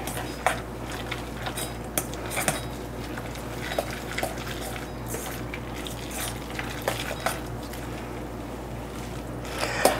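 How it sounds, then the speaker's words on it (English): Tuna patty mixture with egg being mixed in a bowl, a continuous wet squelching with scattered clinks of utensil against the bowl, fairly close and steady, no talk. "I'm gonna mix this up really good"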